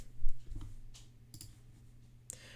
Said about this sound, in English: Cat stepped on the keyboard.